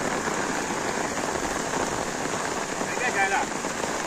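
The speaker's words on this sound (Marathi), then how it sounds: "आज पाऊस पण जोर करता." Steady, heavy rain pours onto a flooded street near Kopar station in Dombivli East, a dense continuous hiss close by, with a brief voice near the end.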